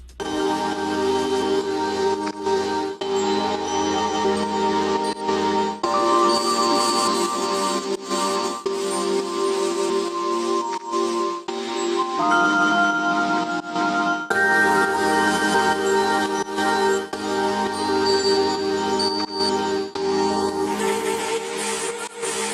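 A looped musical sample plays with reversed, stuttering passages, echoing delays and washy reverb, shifting in abrupt sections without any voices.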